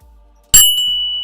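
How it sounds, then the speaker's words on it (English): A single sharp, loud strike of a hand bell opens into a bright ringing tone that sustains and slowly fades, sounding close and piercing, with no talking during it. "I'm going to ring the bell."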